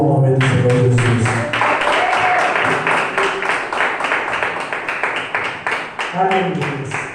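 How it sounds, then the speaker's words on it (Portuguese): A church congregation claps together in a rhythmic series of sharp claps that goes on for several seconds, with a voice speaking over the start and end. "as palmas louvam o nome do Senhor Jesus"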